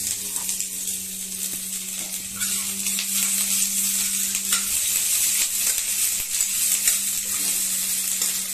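Ingredients sizzle gently in a pan of oil for noodle soup as a spoon stirs them, making a steady soft hiss with faint scraping and occasional light clinks throughout.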